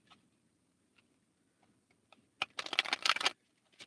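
Tarot cards riffle in a quick, crisp shuffle near the end, after a few scattered soft taps and clicks.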